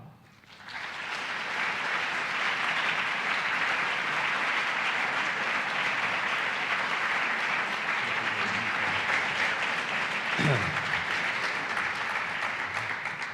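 Sustained applause from a large audience welcoming marketing professor Dr. Philip Kotler, a steady dense wash of clapping that swells in within the first second and holds at an even, loud level to the end.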